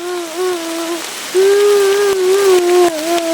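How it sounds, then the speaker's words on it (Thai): Rain falls steadily as a broad hiss beneath a louder, sustained, wavering tonal voice that rises and dips across most of the stretch. "ตรงนี้ฝนก็ตกเหลือเกิน"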